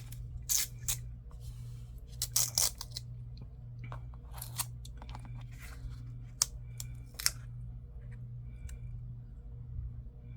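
Tape being pulled and torn by hand for a faux tin craft project, a few short crinkly rips and crackles close by over a steady low hum, quiet and sparse.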